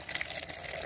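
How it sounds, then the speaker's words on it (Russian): Water draining out of a flower pot filled with expanded clay pebbles, a brief steady trickling splash heard up close with no talking. "Затем беру этот горшочек, придерживаю вот так пальцами и сливаю"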